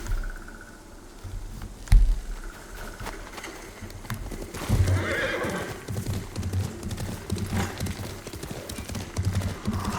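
A horse gallops with rapid clip-clop hoofbeats and whinnies in a video game, loud and close, with the hooves running steadily throughout and a few neighs rising above them.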